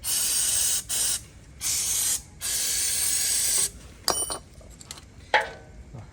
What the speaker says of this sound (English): Spray some lubrication.